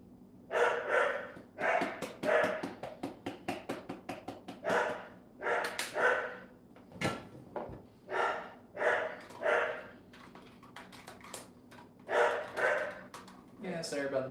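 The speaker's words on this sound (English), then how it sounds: "Yeah, sorry about the dogs barking." Pet dachshunds barking repeatedly in a home kitchen, a steady run of sharp barks and yips at moderate distance, mixed with breathing and snorts, with occasional background talk.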